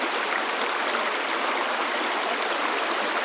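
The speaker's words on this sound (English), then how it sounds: "there's a beautiful river in the backyard, or brook" A backyard brook runs in a steady, bright rushing babble, continuous and close with no voices over it.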